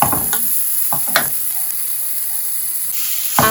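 Carrots dropped into a hot pan set off a steady hiss of sizzling, close and bright, with a few clatters and stirring scrapes at the start and near the end.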